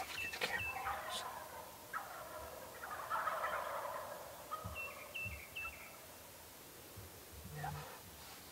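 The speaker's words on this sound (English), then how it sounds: "they've been fired up and gobbling all morning" Wild turkeys gobbling in early-morning Nebraska spring countryside, several distant rattling gobbles from multiple birds scattered through the clip over a faint outdoor background, with quiet human murmuring at times.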